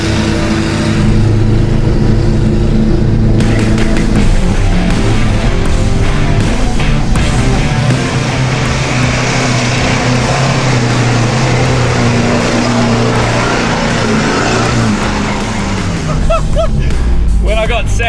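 A Toyota Hilux pulls away off-road in first low gear, its engine droning loud and steady throughout under continuous wind and rumble, with no clear rev peaks.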